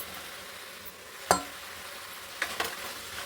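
Tomatoes drop into a sizzling pan of vegetables for a basmati veg pulao, bringing a sharp clatter and splash over a constant frying hiss, followed by a couple of softer stirring knocks.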